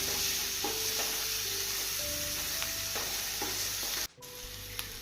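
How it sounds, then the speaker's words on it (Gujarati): Finely chopped onion sizzles steadily in hot oil with garlic and chillies already golden brown, a dense close frying hiss with occasional spoon stirs, and a brief break near the end. "હવે તેમાં કાંદો જે ઝીણો સમારેલો હતો તે સોતે કરીશું।"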